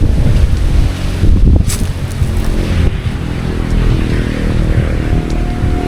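Strong wind buffets the microphone in a steady, heavy roar with gusts, and water noise underneath; no voices.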